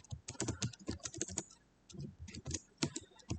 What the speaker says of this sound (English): So typing this out again